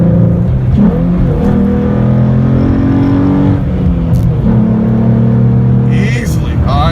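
A 2012 Ford Mustang with a 3.7L V6 accelerates to pass a truck on the road, its engine note rising steadily in pitch under a constant cabin drone, with a brief dip around the shift before climbing again.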